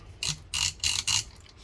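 Four short scraping clicks in a steady back-and-forth rhythm, close up, as a switch on a 1973 Kenwood KR-2300 AM FM receiver is slid repeatedly after being sprayed during maintenance.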